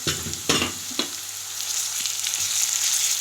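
Meat hitting a pan of sautéed onions, a couple of sharp clatters followed by a strong, steady sizzle of frying that stays loud and close with no voices.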